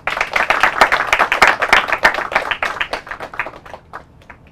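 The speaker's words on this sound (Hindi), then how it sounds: "चलिए इनका स्वागत करते हैं तालियों के साथ।" Audience of a school quiz show clapping to welcome teams, a brisk burst of many hands close by that thins out into a few scattered claps and fades.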